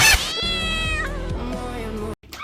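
A cat meows loudly and close by, one long drawn-out yowling call that rises and falls, followed by a brief shorter cry after a short pause.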